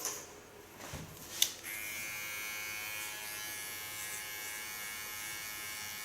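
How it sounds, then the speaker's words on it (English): A small electric hair clipper buzzes steadily and close during an ultra-short haircut, trimming behind the ears, after a few brief handling knocks at the start. "Coming to my small clipper again."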